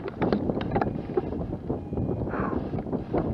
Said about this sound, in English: You can see the wind still wants to take my glider for a ride